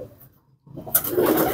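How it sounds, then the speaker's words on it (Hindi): Salara Teddy pigeons in a loft coo softly up close, a quiet low murmur that swells into a fuller burst of cooing and rustling toward the end. "बहुत शानदार बने हुए कबूतर हैं"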